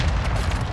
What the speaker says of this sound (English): Mortar strike got him.